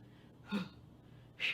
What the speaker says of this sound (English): Take a breath in. Blow it out.